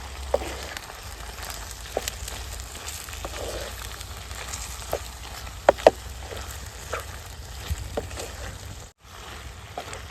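Boar meat curry with turmeric and salt sizzles steadily in a pan as it is stirred, with a low continuous fry and a few sharper scraping clicks, no voices.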